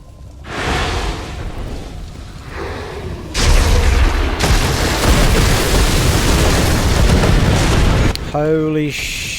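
Heavy gunfire and rolling explosions in Grim Dawn, a loud, dense barrage of booms sustained for several seconds, ending with a short burst of chirping game effects.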